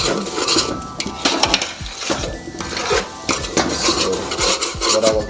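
Cream of wheat pours into a pot, followed by busy scraping and clinking of a utensil stirring against the metal, with irregular strokes throughout and no talking.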